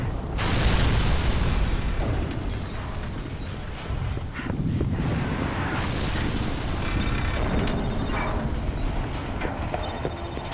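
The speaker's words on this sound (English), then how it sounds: "Explosions are pretty." Explosions and heavy combat from the Halo: ODST video game rumble and boom over clanking, creaking mechanical effects, loud and continuous with dense layered impacts and no talk.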